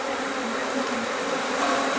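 Angry stray honey bees swarm close by after a hive has been disturbed, a loud, dense, unbroken buzzing that fills the air without any talk.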